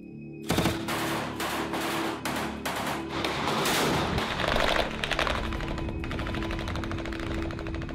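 Bursts of gunfire from fighting between pro-Russian forces and Ukrainian government troops in the Donbass region of eastern Ukraine: loud, sharp reports and rapid automatic volleys crackle in dense succession, continuous and fairly close, with no voices.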